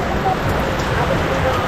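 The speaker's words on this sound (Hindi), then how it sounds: "इधर पूरा बारिश का सीन हो रहा है, बहुत ही तेज़ बारिश हो रहा है" Heavy rain pours steadily at night around the MG Marg street-food area in Gangtok, Sikkim, a loud, even hiss that runs unbroken for the whole stretch.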